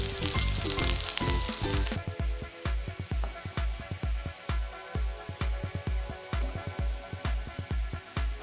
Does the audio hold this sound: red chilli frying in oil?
yes